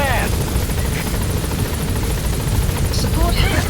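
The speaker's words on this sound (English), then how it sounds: "Support helicopter has arrived." Support helicopter arriving in the video game Metal Gear Solid 5: The Phantom Pain, a loud rotor thrum with rapid blade chop filling the scene, with short radio-like voice bursts over it.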